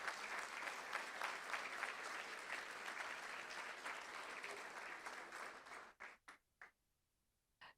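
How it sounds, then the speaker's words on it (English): Sustained applause from an audience at a school board meeting, steady and full for about six seconds before thinning into a few scattered final claps and silence. "Let's give them a huge round of applause"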